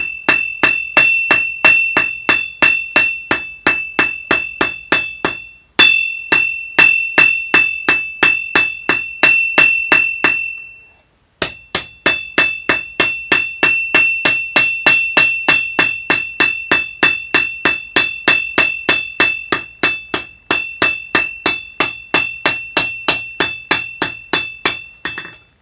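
A hammer strikes hot steel while a goblin knife is forged, giving a long, even series of sharp ringing blows close by. One brief pause comes midway.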